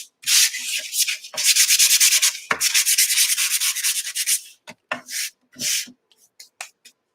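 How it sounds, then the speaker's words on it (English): Sandpaper rubbed by hand over a mixed-media garden art journal page, giving rapid rhythmic scratchy strokes, close and loud, that break into shorter, sparser swipes toward the end. "So hopefully that's enough sanding."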